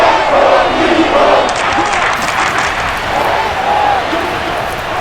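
Stadium crowd noise at an NFL game between the all-time Kansas City Chiefs and the all-time Philadelphia Eagles in Madden NFL 22: a steady, loud roar of cheering spectators lasting throughout, with commentary voices running over it.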